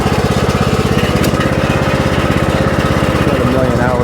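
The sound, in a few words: tractor engine running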